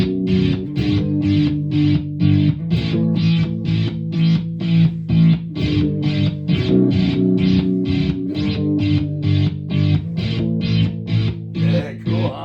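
Electric guitar played through a Behringer V-Tone amp with channels switched by a Behringer FCB1010 foot controller, giving a loud, distorted, rhythmic strummed pattern of steady repeated chords with a shifting effect-laden tone.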